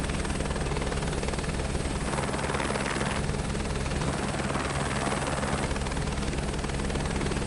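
Helicopter rotor and turbine drone from Microsoft Flight Simulator 2024, a steady loud continuous whir with rhythmic blade chop, running alone without pause.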